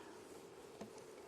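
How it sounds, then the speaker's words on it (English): Honeybees hum in an opened hive, a faint, steady, close buzz with a small click partway through. "I got a lot of bees"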